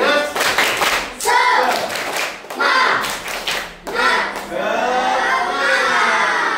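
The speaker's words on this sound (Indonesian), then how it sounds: "Oke, tepuk tangannya. Tepuk semangat." A class of fifth-grade primary school children clapping a rhythmic cheer together, loud close bursts of unison claps in repeated patterned groups with short pauses between, mixed with young voices chanting.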